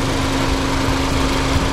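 A 2020 Mazda CX-30's 2.5-liter inline four-cylinder Skyactiv-G engine runs at a steady idle, a constant close, even drone with a faint high whine and no change in pitch.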